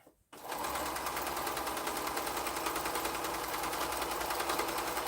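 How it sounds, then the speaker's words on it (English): Sewing machine joining quilt pieces, starting after a brief moment of quiet and then running at a steady fast even stitch rhythm, close and continuous to the end. "I'm going to sew that together."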